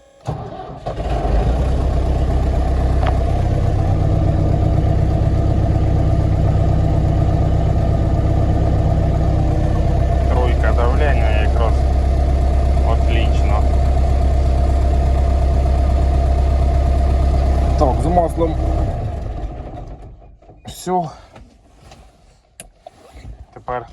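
An MTZ-82 tractor's diesel engine starts and idles with a loud, steady low rumble that runs for most of the stretch, then cuts out and leaves scattered clanks and faint voices.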